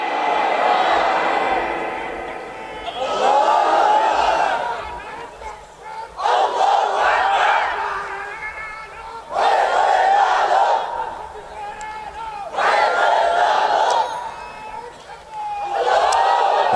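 A large crowd at an outdoor religious sermon gathering in Kurigram roars a chanted Allahu Akbar response to a takbir call, in about five loud, rhythmic surging bursts with brief lulls between them.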